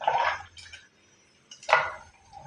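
Thick curry pours and splashes into a pot in two short bursts separated by a quiet pause, heard up close.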